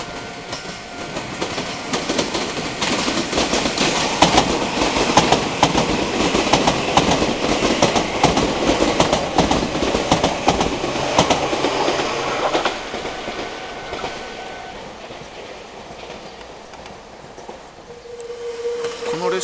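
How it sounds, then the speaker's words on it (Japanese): Trains on the Meitetsu line near Inuyama Station, Japan, rumble past with rhythmic clickety-clack of wheels on the rails, loud and sustained, then fading as one moves away while another approaches. "ひっきりなしに列車が来ますのでね"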